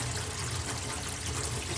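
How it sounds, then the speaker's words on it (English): Water draining down a kitchen sink set into a peninsula or island counter, a steady low gurgling rush that stays even and fairly quiet throughout, with no voices. "Just hear that water purr."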